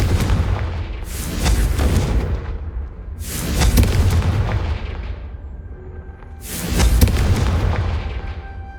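Confringo fire spell blasts in Hogwarts Legacy, three loud booming bursts spaced a few seconds apart, each fading into a rumbling tail, with no talk.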